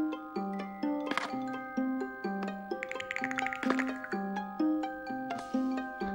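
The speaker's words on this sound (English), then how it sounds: "the fact that it does keep constantly playing means that you know there's a cockroach nearby that you just can't see" Repeating chiming alert jingle from the Spiderwick video game signalling a cockroach nearby, bright tonal melody looping steadily over a game music bed, clear and sharp.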